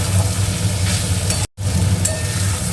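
A vegetable chop mixture with salt, turmeric and sugar stirred in a pan over a high flame gives a steady, close, loud sizzle with scraping, broken by a brief dead gap midway; no voices.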